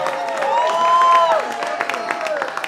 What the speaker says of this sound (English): clap it up for Smokey